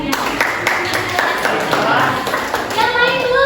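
Classroom applause from a group of high school students during a biography lesson, a steady patter of claps filling the room throughout, with children's voices chattering underneath.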